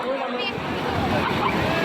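Sea waves washing in at the beach at Digha, a broad steady rush of surf heard close by while people talk over it.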